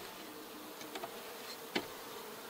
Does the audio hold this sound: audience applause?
no